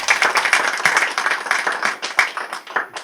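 An audience claps loudly for a guest at an Urdu-Hindi women's literature event, dense and sustained applause with scattered sharper claps over three seconds, fairly near and alone without talk.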